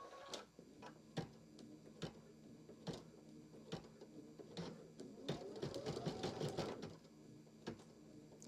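Embroidery machine slowly tacking down quilt pennants, faint regular ticking needle strokes with a denser whirring burst of stitches midway, quiet and without talk.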